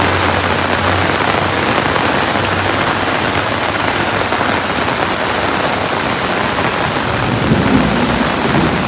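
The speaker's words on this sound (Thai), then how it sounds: "ว้าว เสียงฟ้าร้องด้วย" Thunder rumbles beneath a loud, dense wash of heavy rain pouring onto surfaces outdoors, the downpour steady and close throughout.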